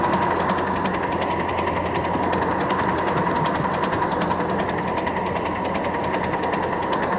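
Steam locomotive working up a grade after a trestle with the blower closed, a steady loud rumble and mechanical clatter running without pause.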